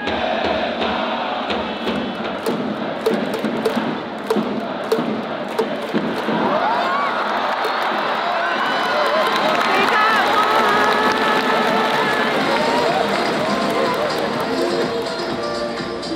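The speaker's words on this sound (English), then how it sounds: "cheering out here is just on an entire other level. Like from the very first pitch, it has just been nonstop, like cheering, drumming, yelling." A packed baseball crowd in Fukuoka, Japan keeps up nonstop cheering, drumming and yelling, loud and continuous, with sharp rhythmic beats early and a swelling roar later.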